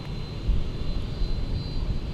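A Boeing 767-300 freighter jet taxiing at MSP airport after landing gives off a steady, low, continuous engine roar at a moderate distance.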